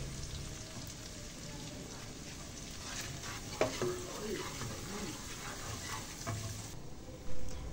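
Blended chili is stir-fried with sliced shallots in a pan, giving a steady loud sizzle with spatula scrapes and stirring clatter throughout.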